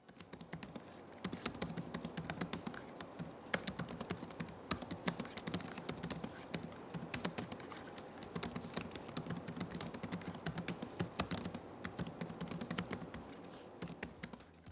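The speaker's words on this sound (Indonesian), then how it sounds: "berikut ini deh contoh suara feedback dari keyboardnya." Steady, fast typing on an HP Pavilion Aero 13-be2005AU laptop keyboard, a dense run of light clicky keystrokes continuing without pause, close up and alone.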